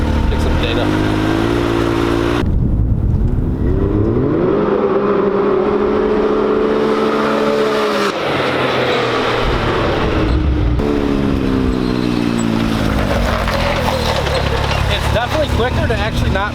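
A car accelerating hard out of the hole with wheels spinning, its engine a loud sustained roar that climbs and shifts in pitch, with voices over it.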